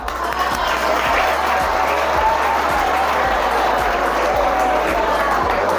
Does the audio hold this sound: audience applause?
yes